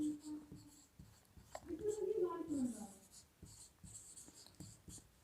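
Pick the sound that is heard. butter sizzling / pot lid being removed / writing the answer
writing the answer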